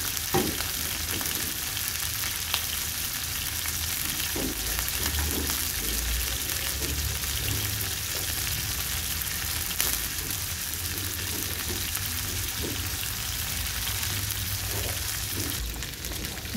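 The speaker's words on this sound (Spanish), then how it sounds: "seguimos con el sellado de las carnes" Meat searing in a hot pan, a continuous loud hiss and crackle of sizzling fat with faint stirring movements, steady throughout, no voices.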